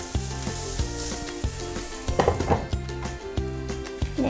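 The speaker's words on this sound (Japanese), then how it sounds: "ここからは蓋をして7分から8分蓋をして焼きます。" A cheese-filled Japanese-style hamburger steak fries under a lid in a pan, giving a steady, loud sizzle with crackling bursts, while rhythmic background music plays underneath and no one speaks.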